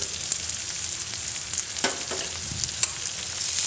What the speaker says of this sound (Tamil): இது வதங்கும் போதே பூண்டும் போட்டுக்கலாம்